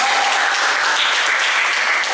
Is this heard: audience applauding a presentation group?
yes